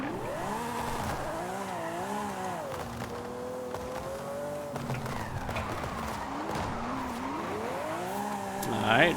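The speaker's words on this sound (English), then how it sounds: "Alright, drifting right up." Car drifting in Forza Horizon 5, driven on a Fanatec CSL DD wheel, with a steady engine note that rises and falls in sweeping arcs and tire squeal running continuously throughout, loud and close, ending in a brief louder burst.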